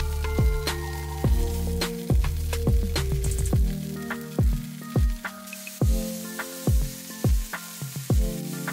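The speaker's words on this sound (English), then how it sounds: "I have just put some oil in the pan and we're gonna get the tofu in there" Tofu frying in oil in a pan, with a steady sizzle broken by repeated sharp clatters and taps, probably a utensil against the pan, that come in an uneven rhythm and fade to quieter, sparser knocks.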